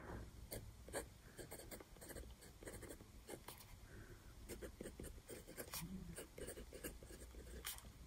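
A fine-nibbed TWSBI ECO fountain pen writes on paper in a Scribbles That Matter B6 notebook, giving a soft, close scratching with quick strokes and pauses that runs throughout.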